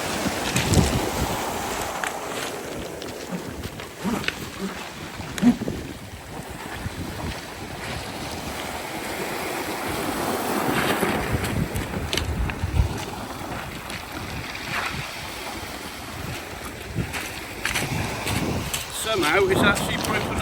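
Kyosho RC jet ski with a 3S brushless motor conversion running on water, a buzzing whine mixed with splashing and heavy wind noise on the microphone, fluctuating in loudness throughout.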